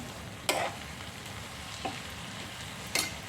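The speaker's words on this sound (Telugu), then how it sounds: "ఇప్పుడు ఒకసారి కలుపుదాం" Ridge gourd curry with dry prawns being stirred in a pan, three distinct scraping strokes of a spoon against the pan over a faint steady sizzle.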